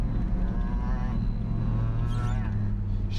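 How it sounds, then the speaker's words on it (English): A truck engine revs behind a minivan during a blizzard drive, a continuous low droning rumble heard from inside the van with a faint rise in pitch. "Revving it."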